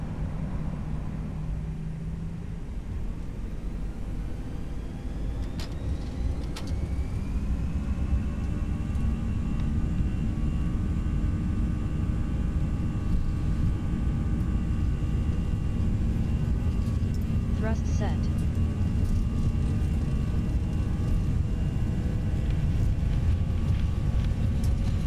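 Airbus A321 in the Toliss flight simulator rolling for takeoff, a steady loud engine rumble and roar that builds and holds throughout, with faint rising whine tones.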